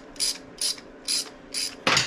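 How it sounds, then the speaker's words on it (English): A 3/16 Allen wrench loosens Allen screws on a Harley-Davidson Sportster primary cover, five short ratcheting metallic clicks in an even rhythm, close and clear, with no talking. "we're going to take out all these Allen screws. Takes a 3/16 Allen wrench."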